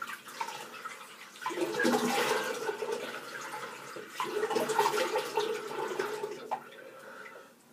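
Water splashes at a bathroom sink as a man rinses his face after shaving, in two uneven bursts of close splashing and trickling.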